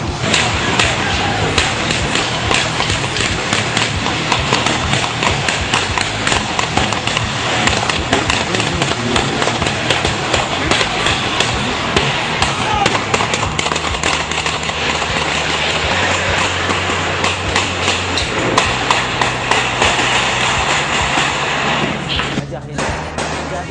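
Dense, continuous bursts of gunfire from terrorists during a military hostage rescue crackle throughout, loud and chaotic, with low thuds mixed in and voices faintly audible underneath.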